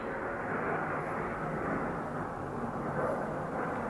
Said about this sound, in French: Ah, nous avons un avion.